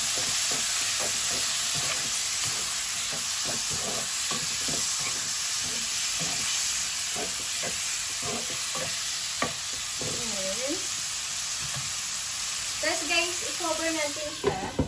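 Tomato goes into a hot pan for fish tikka masala and cooks with a steady, loud sizzle and frying hiss, broken by stirring scrapes and a few brief clatters near the end.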